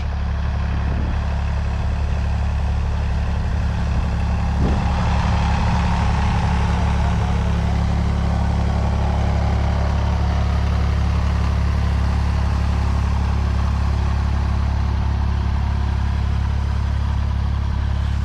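A Fiat 480 farm tractor engine runs at a steady idle, its low diesel throb continuous and close for the whole stretch, with a brief knock or clunk partway through.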